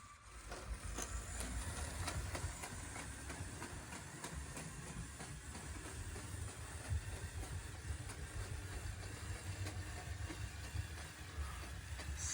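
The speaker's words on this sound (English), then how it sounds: "this is power functions that is motorizing the locomotive here" LEGO Power Functions motorized locomotive of a North Pole Railroad set running on its layout track, giving a steady, fairly quiet rumbling whir with light clicking across the whole stretch and no voices.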